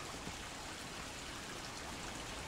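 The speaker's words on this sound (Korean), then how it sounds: "물소리가 콱콱콱콱 쉬지 않고 나네요." Steady water rushing through a covered ditch runs continuously beneath, a constant broadband wash with no breaks, fairly loud and close, no voices.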